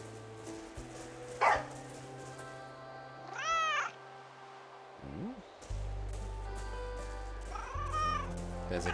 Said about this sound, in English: There's a kitty cat hiding in the woods.